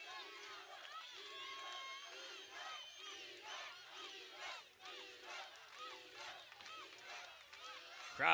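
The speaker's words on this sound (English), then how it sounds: "Crowd coming alive here" A kickboxing crowd in Turkey shouts and cheers in rising waves of overlapping voices, loud and lively throughout, with a sharp burst at the very end.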